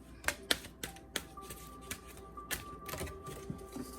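Tarot cards are shuffled by hand at close range, making quiet, uneven flicking clicks and soft riffles in a rapid, irregular series.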